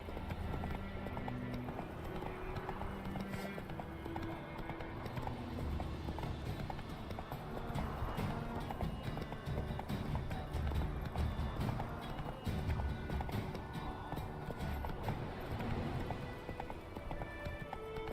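Roach, the horse in The Witcher 3, gallops steadily with continuous clip-clop hoofbeats, close and sustained over an ambient game soundscape with a faint voice now and then.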